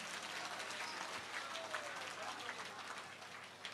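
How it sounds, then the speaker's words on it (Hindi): Crowd applause and clapping of thanks at a Hindu temple consecration festival in Gurugram, a steady, moderately faint patter of many hands heard from a distance throughout. "जोरदार ताली बजा के धन्यवाद दो"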